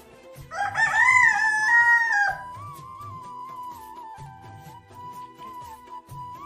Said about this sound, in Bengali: রোজ আমরা খেতে বসলে সেই মোরগটার ডাক শুনতে পাও তোমরা